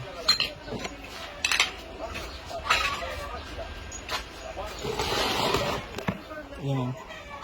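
Lumpia shanghai filling with carrots and egg is mixed in a bowl, giving scattered utensil scrapes and clinks under a speaking voice.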